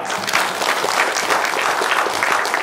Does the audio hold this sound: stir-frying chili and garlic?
no